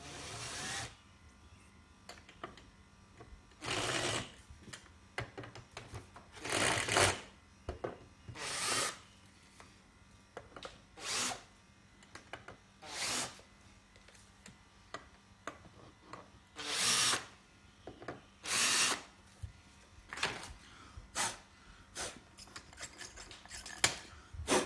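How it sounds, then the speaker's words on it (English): Drill countersinking holes, likely in metal, for a Precious Plastic shredder build: a series of short, bright whirring bursts of one to two seconds each, separated by pauses, close and moderately loud with no talking. "I need to countersink those slightly."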